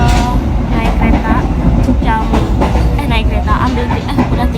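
Passenger train in Indonesia, with a steady loud rumble and rolling rail noise throughout, overlaid by someone talking and other voices nearby.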